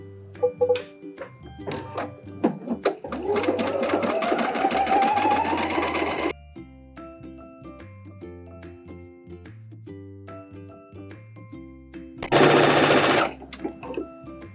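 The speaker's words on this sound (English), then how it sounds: "let's zigzag over both of them" Sewing machine zigzag-stitching over two pulled-up bobbin threads at a dress armhole, running in rapid bursts with a long stretch of fast stitching, then pausing amid clicks and handling, followed by a short final burst.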